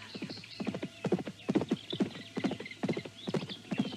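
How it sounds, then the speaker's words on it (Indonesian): Hooves of two horses carrying riders along a forest road, a steady overlapping clip-clop of crisp, close hoofbeats in an even walking rhythm. "2 orang laki-laki penunggang kuda nampak menelusuri sebuah jalan di antara pohon-pohon liar."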